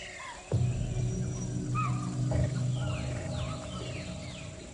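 An eight-year-old male Bengal tiger weighing about 220 kilos gives deep, rumbling roars and growls in the jungle, close and loud over a steady outdoor background.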